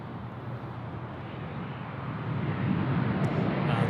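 A jet airliner, Velocity flight 924 from Brisbane, approaches to land at Sydney Airport, a steady broad roar that swells louder toward the end, with no voices over it.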